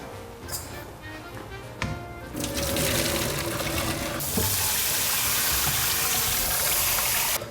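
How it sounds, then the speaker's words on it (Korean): Boiled sea snails being drained and rinsed under cold running water in a kitchen sink, a steady close gush of tap water that grows fuller and louder partway through. "찬물에 한번 헹궈 주시고 물기를 이렇게 빼 주세요"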